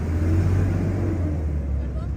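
Low, steady engine rumble from a truck moving slowly at a border crossing, close and continuous, with voices around it.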